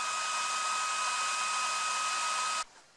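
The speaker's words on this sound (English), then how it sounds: "use the hair dryer and get the air bubbles out" A hair dryer, used to pop air bubbles in the finish of a table being built, blows with a steady whirring hiss and whine, then switches off abruptly, leaving quiet room tone.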